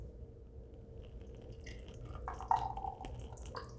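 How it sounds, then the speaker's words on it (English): Thick homemade sea moss gel pours into a container with soft wet drips and gloppy splashes, quiet at first and building to a brief louder splat midway, with no talking. "let's get this poured so I can see what the texture is like"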